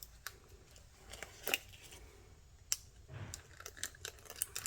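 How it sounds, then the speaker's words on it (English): Scissors clip the corners off resin pieces one after another in a light, irregular run of small snips and clicks, heard close and without speech. "I'm just going around cutting the corners off."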